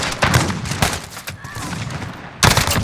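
Rapid gunfire from a player jump-shooting and bunny-hopping in a first-person shooter, loud close bursts of shots, a short gap, then another burst.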